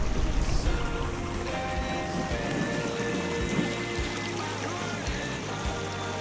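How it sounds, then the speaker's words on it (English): Creek water flowing steadily near a small lake in Cherokee County, Georgia, a broad continuous rushing with no voices, heard alone for several seconds. "And here's the creek."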